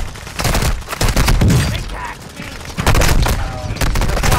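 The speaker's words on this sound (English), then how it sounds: "Friendly airstrike on the way." Friendly airstrike in Call of Duty: Modern Warfare II, a loud barrage of rapid gunfire and thudding explosions with crackling bursts, dense and close, with voices talking in between.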